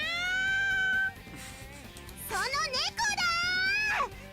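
Cat meowing in the Little Busters visual novel game, several drawn-out, wavering meows, loud and close, one long cry followed by a pause and two more rising and falling calls.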